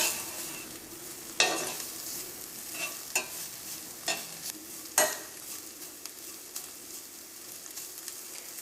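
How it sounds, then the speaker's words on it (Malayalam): Spoon stirring chilli powder into a bitter gourd curry in a frying pan, with a steady soft sizzle broken by several sharp scrapes and clatters at irregular intervals, close and moderately loud with no talking. "ഇതെല്ലാം കൂടി നമുക്ക് നന്നായിട്ടൊന്ന് മിക്സ് ചെയ്യാം."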